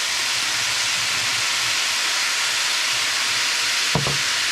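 Soy sauce sizzles in a hot pan of Samoan fried rice, a steady loud hiss running throughout, with a brief clatter from the pan near the end.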